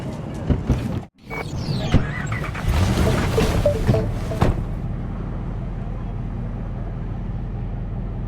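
A car is driven in the Cyberpunk 2077 video game, a loud engine and road rumble with shifting tones through the first half that then settles into a steady low drone.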